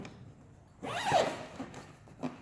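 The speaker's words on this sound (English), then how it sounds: "we're ready to go ahead and zip the bag up" A bag zipper is drawn closed in one quick, scratchy pull, followed by a few softer zipping rasps and a light tap near the end.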